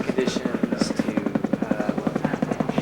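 Helicopter rotor thumping in a steady rapid rhythm at a landing zone in an extreme skiing setting, loud and close throughout, with faint voices under it.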